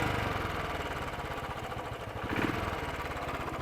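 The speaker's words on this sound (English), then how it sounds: "quite a subdued exhaust note really." A 2017 Royal Enfield 500 Classic motorcycle idles with a steady, subdued single-cylinder exhaust thump, a close even pulse with a slight rise around the middle and no talking.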